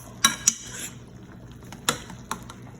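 A utensil stirs chicken with seasonings and broth for tequila lime chicken in a pan, giving a few sharp metallic clinks and scrapes spaced irregularly over a quiet background.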